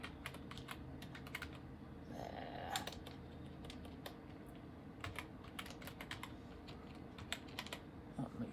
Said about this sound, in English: Make sure we type it in right.